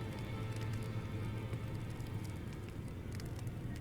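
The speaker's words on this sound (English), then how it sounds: "you can focus on the crackling of the fire here" Crackling fireplace inside the Roundtable Hold in Elden Ring, a steady close bed of soft pops and flickering noise running continuously with a low hum beneath, no talking.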